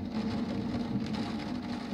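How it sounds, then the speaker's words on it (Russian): Steady rain hisses down ahead of an approaching thunderstorm in Edmonton, a dense, even wash of droplets with a low rumble beneath, continuous and fairly loud throughout. "Гроза приближается."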